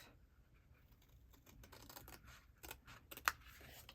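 Scissors snip a tab off a scored paper card for a folded box card, a few quiet close cuts and rustles ending in one sharper snip.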